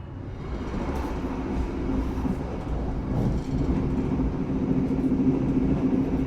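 The Malabar passenger train stands at Kediri station, giving a steady low rumble and engine drone that builds slightly and stays loud throughout with no talk.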